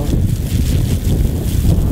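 Strong wind buffets the microphone with a continuous low rumbling roar, close and loud throughout.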